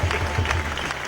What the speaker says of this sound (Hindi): तालियां और डफलियां बजती रहीं